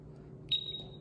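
A SENKO multi gas detector emits a short, high-pitched electronic beep for its high alarm test, sounding once midway through an otherwise quiet moment.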